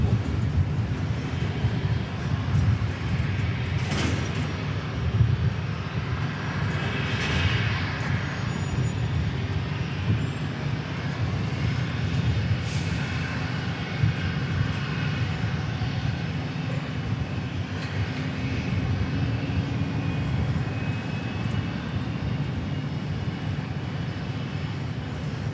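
A Cessna Citation jet passes at Dallas Love Field, a sustained, fairly distant whine and roar that holds steady throughout with faint fluctuations, no talking over it.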